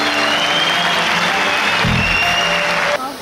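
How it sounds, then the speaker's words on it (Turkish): An audience at an EXPO event in Hatay breaks into loud, sustained applause for a speaker, dense clapping filling the clip before it drops off near the end. "Sevgili dostlar, hep beraber hemşehrinizi alkışlamaya var mısınız?"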